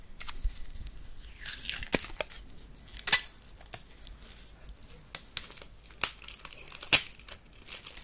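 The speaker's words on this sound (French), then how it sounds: "le papier d'alu" Aluminium foil is crumpled and torn close up in a quiet room, with scattered crisp crinkles and sharp snapping crackles arriving in irregular bursts, some louder spikes standing out.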